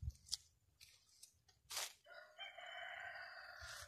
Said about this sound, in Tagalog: Yun naman is yung rooster ko.